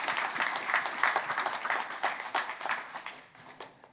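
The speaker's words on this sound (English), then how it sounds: "let's give him a big round of applause" A live audience at a house-flipping seminar claps in applause that starts dense and tapers off, moderately distant with a roomy feel and no voices over it.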